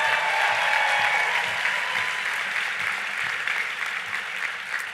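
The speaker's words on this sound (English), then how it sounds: "Let's give him a big round of applause." Conference audience at Netroots Nation gives a big round of applause for a mayor, dense steady clapping from a large crowd that gradually eases off, heard alone without talk.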